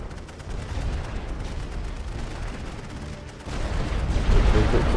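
An artillery barrage thunders across a Great War Western Front battlefield in a strategy game. A dense, continuous rumble of distant guns and explosions rolls on without a break and grows heavier toward the end.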